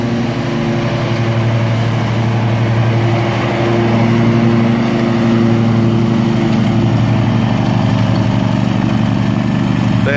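A lawn mower engine runs steady and loud while cutting overgrown grass on a large property, with a constant droning hum and no voices for about ten seconds.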